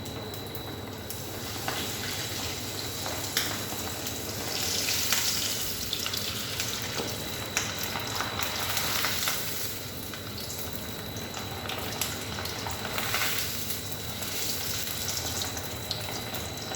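Breadcrumb-coated paneer wheels fry in hot oil, a steady hissing bubble mixed with watery gurgling that swells and eases over several seconds, close by and with no one talking.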